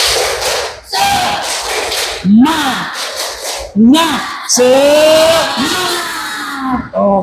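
An Indonesian classroom of students doing a rhythmic spirit clap chant, loud group shouts and claps in bursts, led by a teacher's voice between them.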